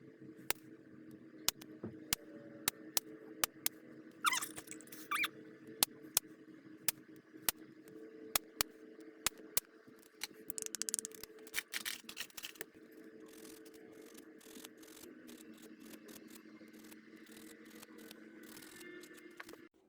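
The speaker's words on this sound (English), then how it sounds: "I just kind of filed them down smooth" Soft, steady rasping scrapes of a nail file working back and forth, with sharp clicks scattered throughout, quiet and close.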